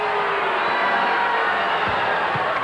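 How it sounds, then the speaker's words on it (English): Basketball arena crowd at a 1986 NBL game between Brisbane Bullets and Canberra Cannons booing a referee's call, a loud sustained wash of disapproving voices filling the hall without a break. "I can hear those boos through those headsets"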